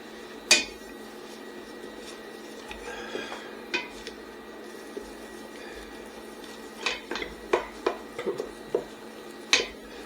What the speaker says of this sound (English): our butter's pretty well melted here, so let's go ahead and let's put our flour in. And at this point, we're going to need to start stirring